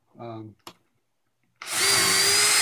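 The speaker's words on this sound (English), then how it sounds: "I'm pumping the drill a couple of times because I found out on the earlier ones that cleans the hole out" A power drill with a 1/4 inch snappy bit drills a shelf pin hole, starting with a short buzz and a click, then a loud sustained whirring cut after a brief silence, close up, with a single spoken word at the start.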